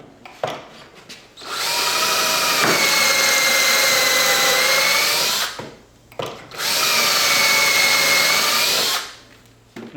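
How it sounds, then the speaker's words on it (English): A power saw roars loudly in two long rip cuts through wood pieces for a window trim frame, a few seconds each, with a brief pause between them and no talking. "So let's go ahead and rip down these pieces."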